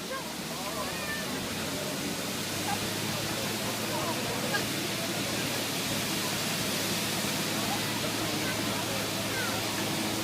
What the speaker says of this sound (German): wir werden jetzt bei 16 Bar mal für ein paar Sekunden die Wasserglocke oder den Wassertrichter ausbringen